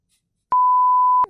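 A single steady telephone line beep sounds while a call is being placed, one clean tone lasting under a second, loud and alone with no talk.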